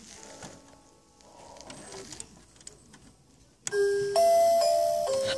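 After a few quiet seconds of faint background noise, a loud electronic doorbell at a cabin chimes a short, bright melody of several tones up close.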